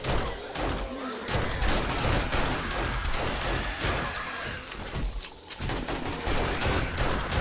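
Gunfire from 7 Days To Die, with dense, overlapping shots crackling in rapid bursts and heavy rumble beneath, nearly continuous for several seconds.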